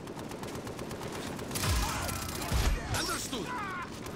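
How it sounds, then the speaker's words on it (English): Gunfire in the video game Far Cry 3, rapid bursts of shots with crashing impacts and mechanical clatter, fairly close and loud, while a voice briefly speaks. "I'm getting shot from behind."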